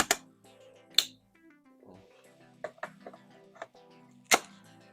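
Wheels of a Carrello Bravo CRL-8512 stroller snap into place with several sharp clicks and knocks, spaced irregularly, close and alone.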